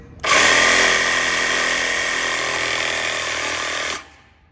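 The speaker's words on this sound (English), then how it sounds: "You just cut a notch in them and they'll come out. So get a small bladed Sawzall blade." A Sawzall reciprocating saw with a small blade cuts a notch into a part of a 2018 Perkins lifter, running as one loud, steady buzzing burst of about four seconds before stopping.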